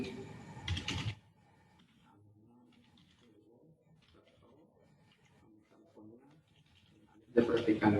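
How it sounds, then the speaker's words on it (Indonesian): Fingers typing on a computer keyboard in a short burst of rapid clicks at the start and again at the end, with a person speaking quietly in between. "Misal saya ketikkan lagi"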